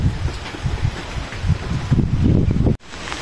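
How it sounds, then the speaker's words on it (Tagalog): Heavy rain and strong wind lash a garden in a steady, rough roar close to the microphone, cutting off abruptly near the end before resuming. "Grabe ulan tsaka hangin."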